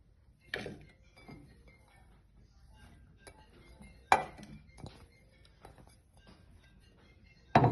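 Chopped vegetables dropped into a pressure cooker, a few sharp clinks and clatters spaced several seconds apart against a quiet background.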